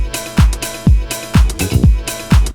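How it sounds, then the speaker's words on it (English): A looped classic disco groove for French house pounds out punchy kick drums on a steady four-on-the-floor pulse, with bright hi-hats and bass between the hits, loud and without talk. "so that's more of like a classic disco groove"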